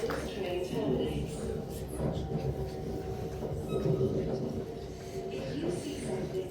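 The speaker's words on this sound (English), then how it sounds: "Where this train terminates." An Elizabeth line train in London rolls along with a steady rumble, soft rhythmic clatter and faint wheel squeal, while an onboard announcement voice speaks over the carriage noise.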